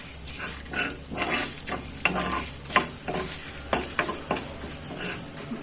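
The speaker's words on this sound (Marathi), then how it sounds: "कढीपत्ता तेलामध्ये व्यवस्थित परतून झाल्यानंतर आपण ही जी बेडगी मिरची पावडर ठेवली आहे ती घालूया" Bedgi chili powder is stirred into hot oil with curry leaves: a loud, continuous sizzle is broken by repeated scraping strokes of a spoon against the pan, and no one speaks.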